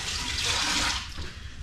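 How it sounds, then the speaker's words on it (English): Tap water running hard while a pan is rinsed in a kitchen sink, a steady close rush of water with slight changes in splash near the end, no talk. "Give it a quick rinse."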